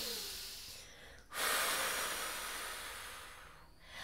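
A deep breath drawn in during a children's relaxation exercise, a long airy inhalation close to the microphone that swells and then slowly tapers off, with no talking.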